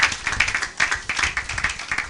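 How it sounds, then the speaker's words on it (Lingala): A church congregation applauding together, a brisk, close wash of many hands clapping in an uneven rhythm with no break. "Acclamons pour la gloire de notre Dieu, de notre Seigneur."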